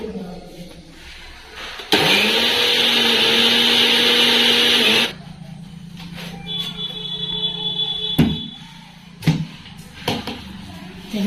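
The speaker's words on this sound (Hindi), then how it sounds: "तो दाल डाल देती हूँ मिक्सर में।" A mixer grinder roars loudly for about three seconds grinding urad dal, then stops, followed by quieter kitchen clatter and a few sharp knocks.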